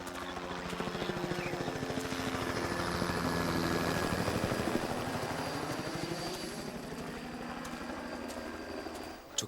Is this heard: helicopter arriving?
yes